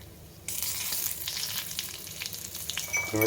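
Asafoetida and pieces of chilli hit hot oil for a moong dal dish, a sudden burst of sizzling that carries on steadily, up close with light clinks near the end.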